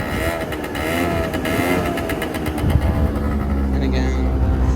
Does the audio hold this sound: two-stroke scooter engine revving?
yes